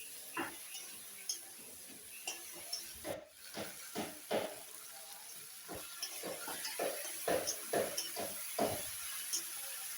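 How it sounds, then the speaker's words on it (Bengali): Chicken sautés in oil with chopped green chilies in a pan, hissing and sizzling steadily while a utensil stirs in repeated scraping strokes, with no talk. "এবার আমি ভালো করে একটু কষে নেব।"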